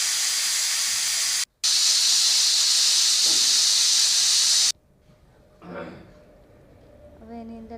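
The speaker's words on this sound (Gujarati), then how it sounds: "2 સીટી આવે એટલે કુકર બંધ કરીને ચેક કરી લેવાનું." A pressure cooker whistle loudly vents steam in a steady, hissing blast for several seconds with a brief break, then cuts off, leaving quieter kitchen sounds.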